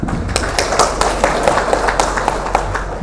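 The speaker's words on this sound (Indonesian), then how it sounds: "Tepuk tangan." A crowd claps steadily through three seconds at an education coaching clinic for the school mover program in Kebumen Regency, with many hands producing a dense, continuous patter and a few sharper individual claps.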